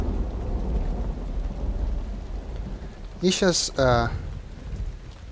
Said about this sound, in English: It's raining, so let's go outside and see